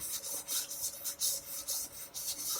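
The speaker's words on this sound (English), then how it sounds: "to try and follow the radius of the fretboard as I'm sanding" Frets on a Fender Squier SE guitar fretboard are sanded along the radius, giving steady back-and-forth rasping strokes, close and loud, in an even rhythm of about five passes with brief pauses between.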